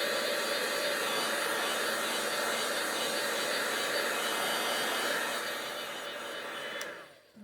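A hair dryer blows steady broadband air at close range over embossing powder on a papercraft piece, running loud and continuous before fading and cutting off near the end.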